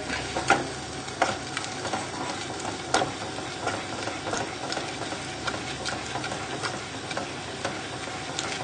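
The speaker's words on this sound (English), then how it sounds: "Just stir, stir, stir." Onion gravy with stock stirred in a pan gives a continuous soft simmering hiss, with regular spoon scrapes and light taps against the pan bottom repeating steadily.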